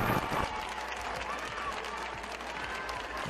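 A crowd applauds after the winner of a guacamole cooking contest is announced, dense sustained clapping at a fairly constant level with voices mixed in throughout.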